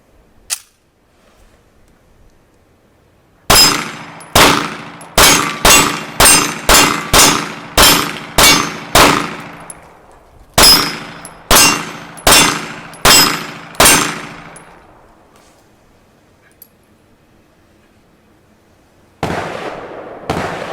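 An Inglis P-35 pistol fired at close range in two rapid strings of about eight and six shots, each crack sharp and loud with a short ringing tail, with another shot just starting at the end.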